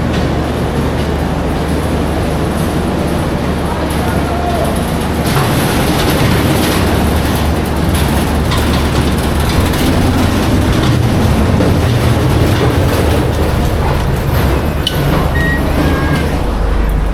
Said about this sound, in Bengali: শিয়ালদা স্টেশনে আমরা এই দুরন্ত এক্সপ্রেস ধরবো।